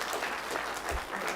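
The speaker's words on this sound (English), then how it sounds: "The applause is taking your time away" Brief, faint applause from the audience at a county election results meeting, a soft wash of clapping with a low thump partway through.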